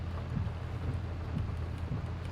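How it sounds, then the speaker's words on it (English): Steady rain in the Farming Simulator 22 video game, a continuous broadband wash of patter with low rumble underneath, moderately quiet and unbroken throughout, with no talking. "God, I'm loving that rain."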